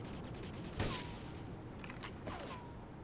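Sniper rifle shots in Grand Theft Auto III: one sharp report, then two fainter cracks a second or so later, all fairly quiet under a constant background wash.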